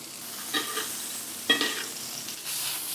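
Meat searing in a hot pan with rosemary and garlic, a steady close sizzle with two short bursts of stirring or turning partway through and a louder spatter near the end, no talking.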